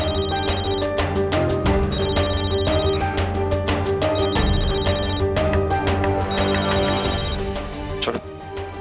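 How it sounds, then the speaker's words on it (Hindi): An indoor telephone rings with an incoming call, a loud electronic ringtone repeating in regular bursts over a steady dramatic background score, with no voices. "पता नहीं इस वक्त कौन फोन कर रहा है"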